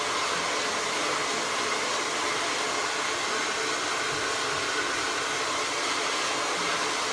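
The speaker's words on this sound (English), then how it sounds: "for my bangs, I go in and I blow dry them first." A handheld hair dryer blows steadily and loudly at close range while drying bangs at home, a continuous broadband rush of air with no talking.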